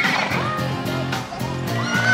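Auvergne breed horses at a horse show give repeated neighs and whinnies, close and fairly loud, over a busy background of crowd noise and the occasional clop.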